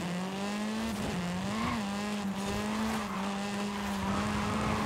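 A race car in Forza Horizon slides through a corner, tires squealing in a long wavering howl over the engine's steady drone, loud and continuous with the pitch bending as the slide shifts.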